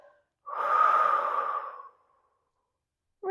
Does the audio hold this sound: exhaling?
yes